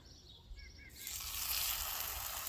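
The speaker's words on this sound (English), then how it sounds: "And you can hear it sizzling already." Food dropped into olive oil in a cast iron pan bursts into a loud, steady, close sizzle after a quieter moment of faint clinks.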